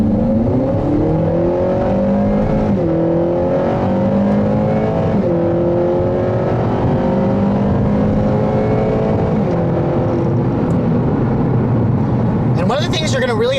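A 2016 Acura ILX engine hums steadily while driving at about 1500 RPM, its pitch stepping up through smooth dual-clutch eight-speed gear changes, with someone talking over it throughout.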